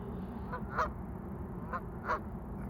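A few distant goose honks at a fishery, two or three short calls spaced apart, faint over a low outdoor background.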